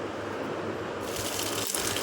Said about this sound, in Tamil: இந்த பூசணி கொடி மல்லிப்பூ செடி எல்லாத்துக்கும் அப்படியே தண்ணி விட்டுட்டு இருந்தேன்